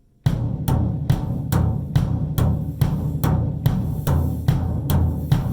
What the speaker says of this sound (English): So now you're doing eighth notes on your floor tom.